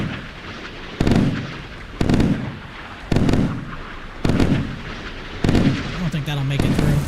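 In the naval combat game Sea Power, missiles launch in a regular series of about five loud, booming whooshes roughly a second apart, each one rumbling and fading, with a rising whine near the end.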